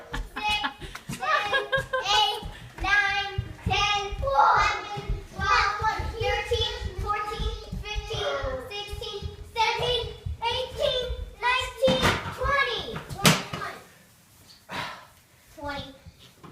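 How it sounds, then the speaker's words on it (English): Young children shouting and cheering excitedly during a family Christmas tree installation, their high voices overlapping in a continuous, lively stream with bits of chuckling, close by and loud. "The kids are very helpfully cheering on"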